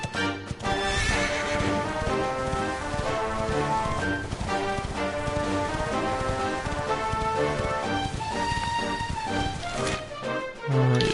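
Horse riding in the video game Dragon Quest XI: steady clip-clop hooves and a whinny over game music, with a patter like rain, loud and continuous with no talk.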